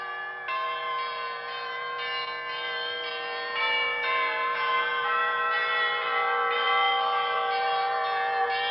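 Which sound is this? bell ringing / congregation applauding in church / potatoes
bell ringing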